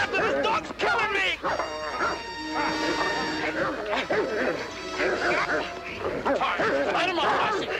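A collie barks and yips in close, loud bursts while attacking a man, mixed with frantic shouting from several people and scuffling noise throughout.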